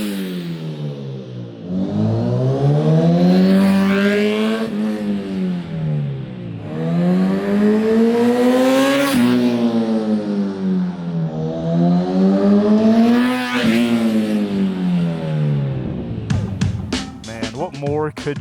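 A Honda Hornet motorcycle fitted with a Yoshimura exhaust makes repeated flybys, rising and falling engine notes as it revs up, passes close and fades, several passes in a row, with a voice speaking briefly near the end.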